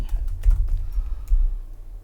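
Computer keyboard typing during live programming, a quick run of soft, low, thudding keystrokes close by with no talking.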